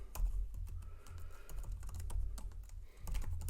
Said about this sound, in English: so I'll type in ls-la